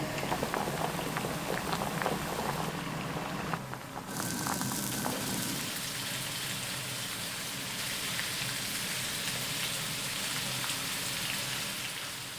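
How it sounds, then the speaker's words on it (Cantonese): Pork skin deep-fried in oil, started in cold oil, crackles and bubbles in a dense, loud, unbroken sizzle that shifts in texture partway through and continues steadily to the end. "炸鍋燒呢一定要冷油下去"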